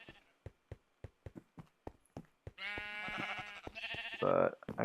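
Sheep bleat in the video game Minecraft, several overlapping drawn-out bleats near the end after a run of quick, evenly spaced clicking footsteps.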